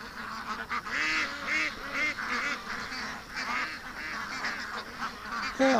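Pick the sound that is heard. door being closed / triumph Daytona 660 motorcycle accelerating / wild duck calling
wild duck calling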